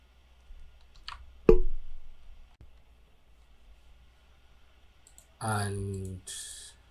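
One sharp computer mouse click sounds close up against a quiet background, followed later by a person talking.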